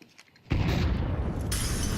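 A flashbang goes off in a Counter-Strike 2 match on a bomb site: a sudden loud burst cuts in and is followed by a sustained bright ringing hiss that brightens sharply partway through.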